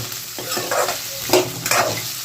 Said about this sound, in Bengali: আলুটা দিয়ে দিয়েছি একটু ভালো করে ভাজা হোক